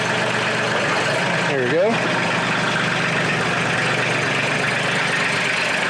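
A Mahindra 1626 HST 4WD compact tractor engine runs steadily at idle while its loader lifts, a loud continuous diesel rumble with a brief hydraulic whine partway through, and someone speaks briefly over it.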